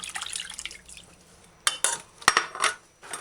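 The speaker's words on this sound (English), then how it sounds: "get a bowl with some water, drizzle a couple drops of white vinegar, rinse off the tomato" Tomato and other vegetables are rinsed in a bowl of water with a few drops of white vinegar, making faint splashes, drips and light clinks of the bowl, with a cluster of sharper knocks near the end.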